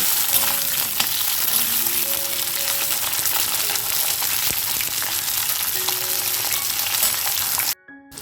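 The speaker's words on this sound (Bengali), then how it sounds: "আমি কিন্তু নুন বা হলুদ কিছুই যোগ করব না শুধুমাত্র উচ্ছেগুলো ভেজে নেব" Bitter gourd pieces fry in hot oil with a loud, dense, continuous sizzle close by, which cuts off abruptly near the end.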